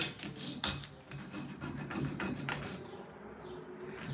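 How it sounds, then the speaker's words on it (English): Steady rasping scrape of a metal file rubbing back and forth across plastic, continuous and close, with a faint high whine of power tools in the background. "using a metal file like this is really nice for this"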